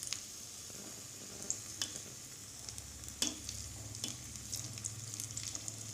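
Mixed-vegetable vadai balls fry in hot oil with a soft, steady sizzle, punctuated by a few sharp ladle clinks as the balls are turned, close and fairly quiet.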